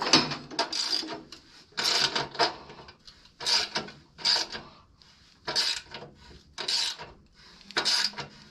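Hand ratchet clicking as it loosens bolts on a Wheel Horse lawn tractor, short bursts of rapid ratcheting repeated about eight times with brief pauses between, close and clear.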